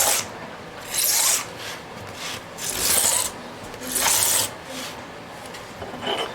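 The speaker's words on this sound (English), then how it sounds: "take this fret leveling tool and just go across at a kind of like a 45-degree angle on the ends, and kind of bevel the ends back" A fret leveling tool rasps across the fret ends of a custom 12-string Rosa dreadnought guitar at an angle, giving four or five close, gritty filing strokes in a steady back-and-forth rhythm.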